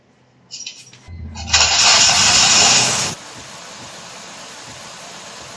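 A 2015 Suzuki Ertiga engine cranks briefly after a spark plug replacement, catches with a loud hissing roar for a couple of seconds, then settles into a steady low idle.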